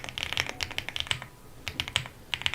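Computer keyboard typing, two quick bursts of crisp, close key clicks separated by a short pause, with no talking.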